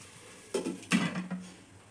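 A lid is set down on a pan of cooking vegetable, making two short clanks close by with a brief metallic ring in a quiet kitchen.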